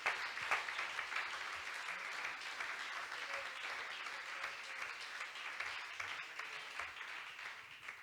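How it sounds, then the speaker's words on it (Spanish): Steady applause from a church congregation giving praise to the Lord, dense clapping sustained throughout with slight swells, heard from within the room. "Alguien que aplauda al Señor en esta noche, que le brinde ese aplauso al Rey en esta hora"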